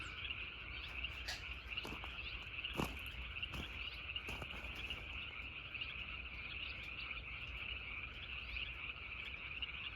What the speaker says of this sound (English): Lots of frogs.